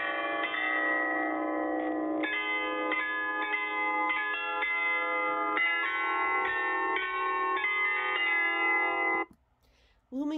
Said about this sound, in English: The tower's 35 bells chime three times a day.